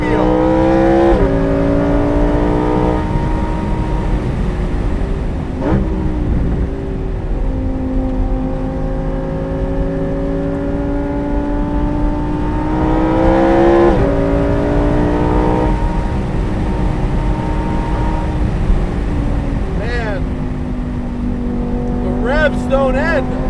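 A Lamborghini Huracán Performante Spyder's engine pulls hard and loud through a long gear on the road. Its tone climbs steadily, with occasional gearshift breaks, while a person talks over the sustained drone from inside the car.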